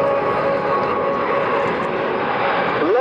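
A Frecce Tricolori MB-339 jet at an airshow sweeps through a low-speed turn with its airbrake out, a steady roaring engine whine with a sustained tonal note that bends in pitch just before the end.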